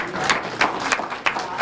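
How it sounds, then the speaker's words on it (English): Crowd applause at a veterans' support event, an audience clapping steadily for a group of younger supporters, with several louder bursts rising above the continuous patter. "could give a nice round of applause"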